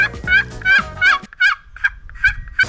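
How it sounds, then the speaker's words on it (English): A turkey call is blown up close, giving a string of sharp, high yelping notes in a quick rhythm that trails off into fainter clucks. "And now we got another type of turkey call."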